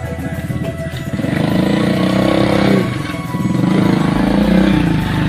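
A motorcycle loaded with harvested rice straw rides through a village at harvest time, its small engine putting out a steady, pulsing drone that swells and eases as it moves nearby.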